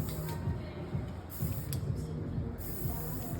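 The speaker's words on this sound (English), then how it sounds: "we're gonna spray some on my lovely redhead here" Moroccanoil Perfect Defense heat protectant is sprayed onto red hair in a salon, with a few short, hissing spritz bursts and faint mechanical creaks over steady room noise.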